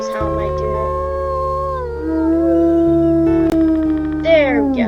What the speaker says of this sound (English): I think Star's howl might do